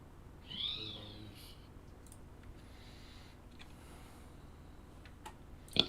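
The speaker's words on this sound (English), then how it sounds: "That's my parrot." A pet parrot lets out one short, shrill squawk near the start, then the room falls back to a low hum with a few faint clicks and taps.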